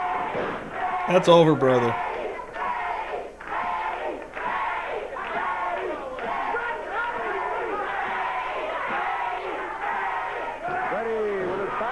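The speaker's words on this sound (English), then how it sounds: "Listen to this crowd." A packed wrestling arena crowd at a 1989 CWA Memphis show roars in sustained cheering throughout, loud and continuous, with a commentator talking over the din and a brief shout near the start.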